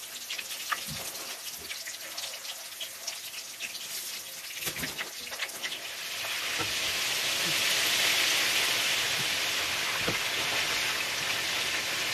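Pork spring rolls, lumpiang Shanghai, fry in preheated oil, a steady crackling hiss that swells and thickens midway, with a few soft knocks and taps scattered throughout.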